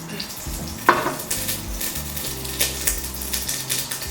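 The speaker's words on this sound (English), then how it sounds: "I'm gonna add about 2 tablespoons of oil as well to the pot" Butter and oil sizzle in a pot at the start of a Thai chicken coconut curry, a steady close frying hiss broken by a sharp clink near the start, with no talking.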